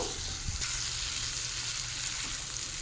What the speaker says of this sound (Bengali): আলুটাকেও তেলের সঙ্গে ভালো করে একটু কষিয়ে নেব।